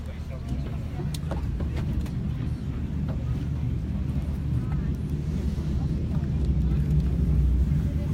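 A tour boat cruises the canals of Strasbourg's Petite France. A low engine hum runs throughout, mixed with wind buffeting the microphone, and a voice can be heard faintly.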